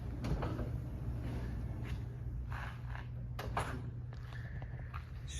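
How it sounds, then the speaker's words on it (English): Remote power sliding door on a 2019 Dodge Grand Caravan GT minivan, a soft mechanical whir and rumble with a couple of clunks as it moves, close by and without talk. "It also has remote power sliding doors on both sides."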